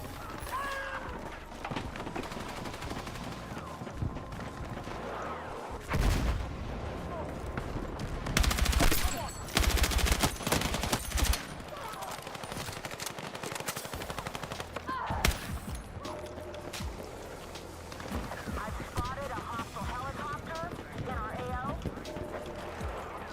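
Video game gunfire rings out in repeated bursts and rapid automatic volleys, some loud and close, with someone talking over the action at times.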